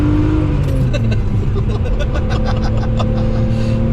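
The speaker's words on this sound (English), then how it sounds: "you just about hear a bit of a whine from that supercharger" A steady engine drone fills the cabin of a supercharged BMW E46 M3, with a faint high supercharger whine riding above it and occasional light rattles.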